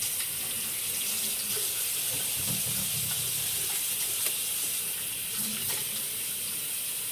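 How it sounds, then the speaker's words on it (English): A tap runs steadily into a sink while hands are washed under it, a close, unbroken rush of water with slight splashing changes and no voices. "I'll just go wash my hands"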